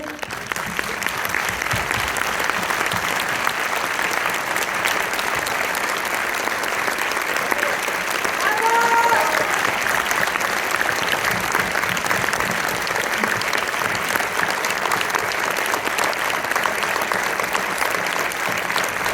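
A cinema audience at an Orléans preview of La maison des femmes applauds the caregivers of the Maison des Femmes, giving dense, sustained, loud clapping that holds steady throughout.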